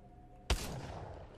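A single sharp gunshot in Apex Legends during training, one loud crack with a short decaying tail over quiet game ambience.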